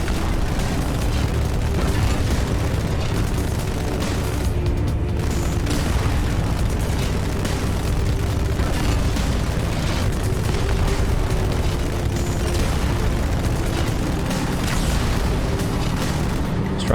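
Explosions and heavy booms from the video game Halo 2 roll on loudly and continuously, a dense rumbling roar with repeated blasts layered together and no talking.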